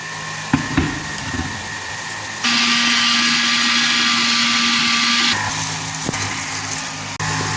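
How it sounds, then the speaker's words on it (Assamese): An electric mixer grinder purees tomatoes in a home kitchen, with a few clicks and knocks before it starts, then a steady loud whirring whine for about three seconds that drops to a lower hum before switching off, with no talking. "এইফালে বিলাহীখিনি গ্ৰাইণ্ড কৰি লওঁ"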